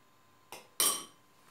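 Yogurt noodle salad with dill being mixed in a bowl: two quick, faint clinks of a utensil against the bowl, the second one sharper and louder, in a quiet setting.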